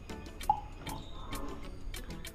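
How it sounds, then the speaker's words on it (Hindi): Water is added to Royal Challenge whisky in a glass, giving a few close, sharp drips and light trickles against quiet surroundings. "बिल्कुल थोड़ा सा मैंने इसमें पानी ऐड किया है"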